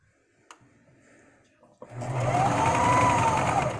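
A sewing machine starts up and stitches fabric in a continuous, close, steady whirring run, preceded by a few faint handling clicks and soft talk.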